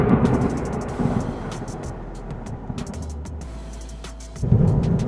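A dark, stormy night thunderstorm sound effect rumbles low and heavy, with a continuous wash of rain-like noise and a swell of thunder near the end, alone and fairly loud.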